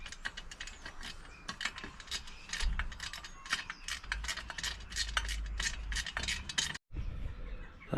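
Ratchet tightening two 10mm head bolts on a mini bike exhaust header, a close series of rapid metallic clicking bursts with short pauses between strokes, no voices.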